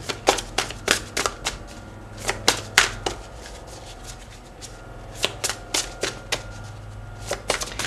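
Oracle deck of cards being shuffled for a reading, a quick run of crisp riffling snaps in two bursts with a short pause between them, close and clear with no talk.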